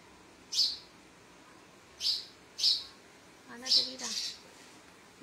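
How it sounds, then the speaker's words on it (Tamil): House sparrow chirping at its nest in a home, five short sharp chirps spaced irregularly over a quiet background, fairly close and clear. "அங்கே பாருங்க, கத்துதான் சிட்டுக்குருவி."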